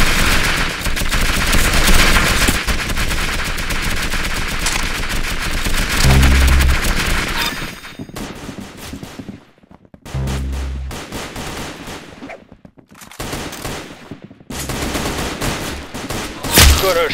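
Rapid bursts of gunfire from the Roblox game Arsenal, loud and dense, with volleys and pauses in the shooting.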